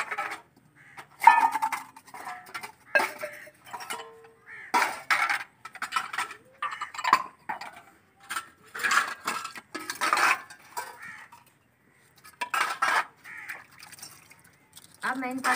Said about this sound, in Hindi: अब मैं आपको बर्तन धो के दिखाऊँगी।